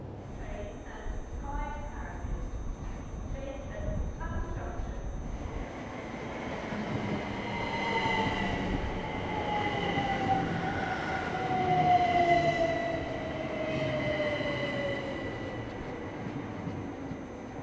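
Inside a moving passenger train near Bletchley on a snowy day, a steady rumble and hum of travel runs throughout, with a rising whine and rolling noise building midway, while a voice and announcement-like speech sit over the start.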